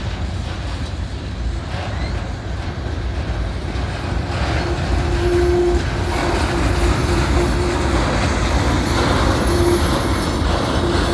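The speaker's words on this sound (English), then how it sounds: "Not a very long train." A short freight train carrying a steel coil car rumbles past a railroad crossing, heavy steady wheel noise up close with brief metallic squeals rising now and then.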